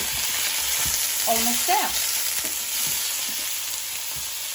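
Pitta bread frying in a pan with uneven hot spots, giving a steady close sizzle that runs throughout while a voice briefly speaks over it.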